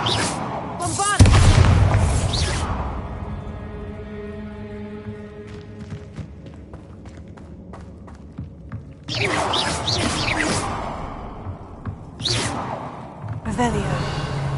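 Bombarda spell blasts in the Hogwarts Legacy video game, a loud booming explosion with a whooshing burst near the start, a ringing tonal decay, then more rumbling impacts later.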